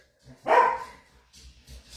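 One sharp, loud bark from a pet dog indoors, close by, followed by quieter background rustling.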